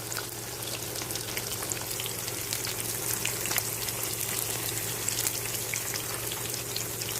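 Masala-coated fish frying in oil over a low flame, a steady, close crackling sizzle with dense fine pops that holds even throughout, with no voices.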